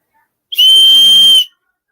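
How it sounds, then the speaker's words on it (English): A single shrill whistle blast, loud and close, lasting under a second with a sharp start and clean cutoff, alone without talk. "Blow your little rent a cop motherfucking whistle."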